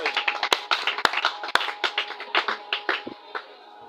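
A church congregation claps, a run of sharp, close hand claps that starts quick and lively and then thins out and fades toward the end.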